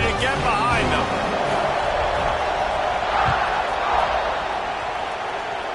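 Steady, dense roar of a stadium crowd in the College Football 26 video game, filling the scene at an even level before a kickoff, with faint voices woven through the din.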